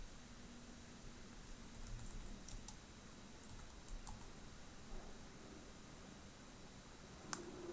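Quiet typing of a file name on a computer keyboard while working in Stata, with scattered light key clicks and a sharper tap near the end, close but faint over a low hiss.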